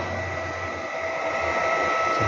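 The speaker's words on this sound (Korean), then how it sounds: "이 상태에서 바짝 뿌리를 밀어서 드라이기를 바짝 붙이는 거죠" A hair dryer held close to the roots while blow-drying hair during a barber licensing practical, giving a steady, loud, continuous blowing whoosh throughout.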